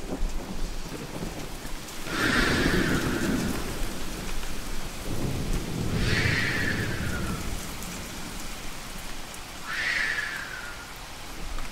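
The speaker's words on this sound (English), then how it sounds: "The morning severe thunderstorm lasted for a couple of hours." Heavy rain pours steadily throughout while thunder rumbles and cracks three times at roughly even intervals, each clap loud and close.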